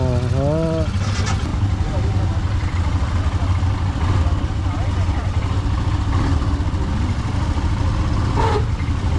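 A vehicle engine runs loud and steady throughout on a Himalayan drive in Ladakh, with a continuous low rumble and people's voices speaking over it.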